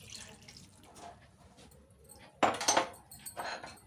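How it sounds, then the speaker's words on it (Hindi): Water is poured into a cooking pot (handi) of mustard greens for sarson ka saag, a short splashing gush near the end, close and moderately loud, after quieter clinks and kitchen handling. "और इसमें कुछ पानी डालेंगे"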